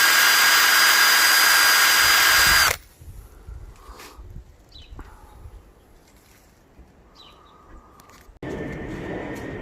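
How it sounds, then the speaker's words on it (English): A wire brush on a power tool grinds rust off a Raleigh Burner bicycle frame, giving a loud steady whine for nearly three seconds, then quieter handling noises, then the grinding starts again near the end. "So I've done half the frame with the wire brush, grinding it down."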